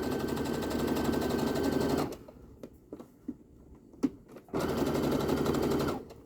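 Sewing machine stitching two layers of costume fabric, a fast close rattling hum for about two seconds, a pause with a few clicks of fabric handling, then the motor runs again.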